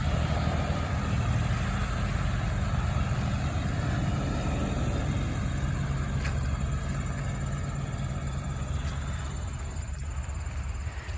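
Procession of tractors passing along a rural road, a continuous low engine rumble and drone that stays steady and fairly loud throughout, with no talking.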